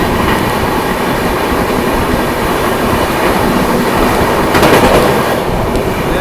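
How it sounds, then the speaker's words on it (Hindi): Howrah Rajdhani Express passing through Netaji Subhas Chandra Bose Gomoh station at high speed, a loud steady roar of rushing wheels and carriages with rhythmic rail clatter and a brief metallic burst near the end, no talk. "को हाई स्पीड में स्किप कर रही है भाई अपनी ट्रेन।"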